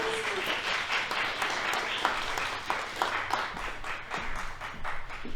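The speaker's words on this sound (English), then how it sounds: "Can we get a round of applause for our speakers?" Audience applause for speakers at the close of a Juneteenth panel discussion on the state of Black Pennsylvania, steady dense clapping filling the whole stretch at a moderate distance, with a voice faintly audible underneath.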